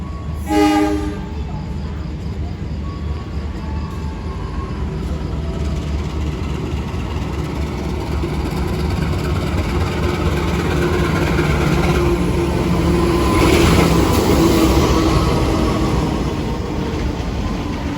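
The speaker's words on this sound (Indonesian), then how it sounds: "coba liatin keretaku yang datang, kereta komuter Indoho" A commuter train rumbles into Tulungagung station with a loud, steady roar that builds and swells, a brief horn blast at the start and metallic squeals later.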